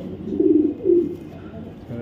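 A male white tracer racing pigeon coos in two low, murmuring bursts close by, with steady background hum between them.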